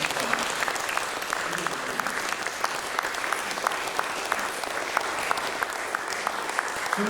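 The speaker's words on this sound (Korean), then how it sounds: "우리 큰 박수로서 우리 축하드리죠." A crowd applauds at a church ceremony installing a senior pastor emeritus. The clapping is steady and continuous from start to finish, with no talk over it.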